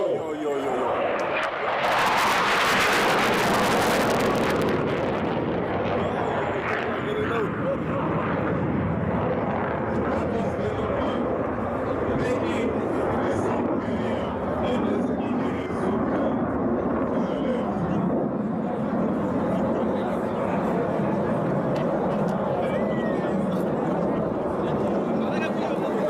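A low-flying military jet, Venom 1, passes at a national defence force anniversary parade, a loud broadband roar that builds and swells early then lingers as a steady rumbling wash with crowd noise and talk beneath.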